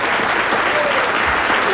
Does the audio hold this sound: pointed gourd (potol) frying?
no